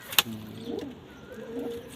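A pigeon coos twice in low, soft, rolling phrases with a faint sharp click near the start, fairly close, with no speech.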